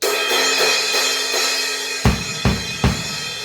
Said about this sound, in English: 18-inch PST medium crash sounds like this